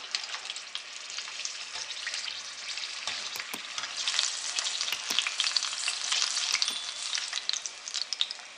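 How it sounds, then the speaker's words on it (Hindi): Green chillies fry in the oil left over from moong dal pakoras, with a dense, continuous hiss and crackle close up and sharp pops scattered through, no talking. "अब मैं करूँगी हरी मिर्च फ्राई"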